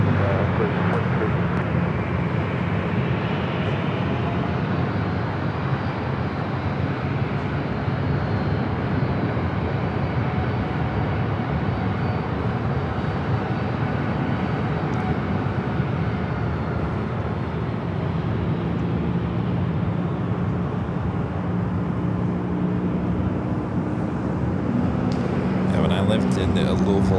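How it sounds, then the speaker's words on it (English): An Airbus A319 in old Northwest livery rolls down runway 24 left at LAX, a steady broadband engine roar that holds throughout, with radio chatter and people talking over it. "A319, Old Northwest A319. Now rolling down at 24 left."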